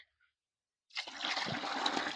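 Toddy (palm wine) poured into a container while making panchagavya, a steady liquid splashing and gushing that starts abruptly after a short silence and keeps going, close and fairly loud.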